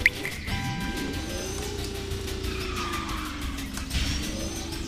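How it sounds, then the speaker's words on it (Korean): A kart slides through a drift in a racing video game, the engine tone rising and falling steadily while the tires squeal and skid throughout, loud and continuous with no talking. "이번엔 드리프트 감속 보도록 하겠습니다"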